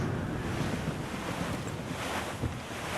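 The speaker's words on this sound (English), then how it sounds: "That storm could be dangerous." Storm wind and crashing ocean waves from the video game Assassin's Creed Rogue roar in a steady, dense wash of surf and gusts, loud and unbroken, with no speech.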